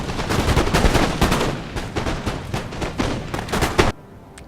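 Massed musket volleys from line infantry, including Voltigeur units, in a Napoleon: Total War multiplayer battle against Ottoman forces on a hilltop, a dense crackling barrage of overlapping shots that rolls on for several seconds and then cuts off abruptly.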